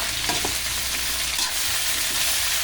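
Garden vegetables such as string beans are stirred in a pan, giving a dense, continuous sizzle with soft scraping strokes running through it at close range.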